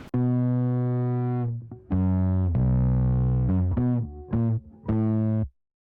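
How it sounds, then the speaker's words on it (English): Soloed electric bass with compression and crunch distortion, playing a series of sustained, gritty notes with a few short stabs in between, loud and close with no talking. "we used the crush to add some compression to this, and then we used the crunch to add some additional distortion"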